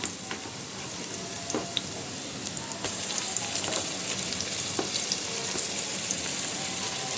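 Onion paste frying in oil with already browned onions for biryani, a steady close sizzle running throughout with a few faint clinks and scrapes, no voices.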